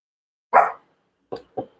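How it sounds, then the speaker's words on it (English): A small dog barks indoors: one sharp yap followed after a pause by three quicker, shorter barks, close and fairly loud against an otherwise quiet room. "You got a little dog hollering at me."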